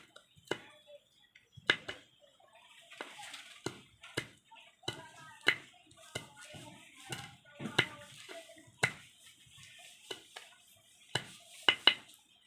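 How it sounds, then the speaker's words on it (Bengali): Green chillies chopped with a knife on a board, a sparse series of crisp taps with short gaps, close and fairly quiet. "এই যে লঙ্কাগুলো কুচি কুচি করে কেটে নিচ্ছি।"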